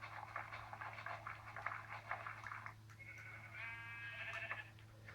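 A sheep bleating in a video game, a quavering cry that rises and wavers for a couple of seconds over a steady low hum and ticking game sounds.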